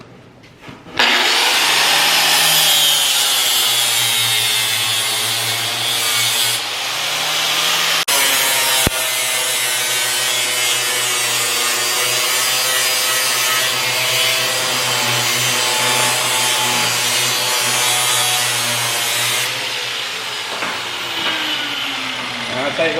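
An abrasive disc on a grinder works mill scale off steel in a fabrication shop, a loud, steady, close grinding roar that holds for about twenty seconds after a sharp start, with a brief dip and a sharp click partway through.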